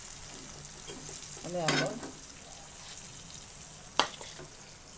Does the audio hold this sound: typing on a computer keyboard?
no